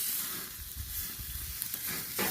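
One-pound burger patty, about five inches wide, sizzling on a grill, a continuous close hiss and crackle heard alone with no voices.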